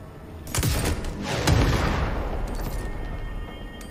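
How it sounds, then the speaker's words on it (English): In the video game Control, an explosion with a vacuum effect bursts in two sharp blasts close together, followed by a fading crackling rumble. "It has a nice explosion with a vacuum effect."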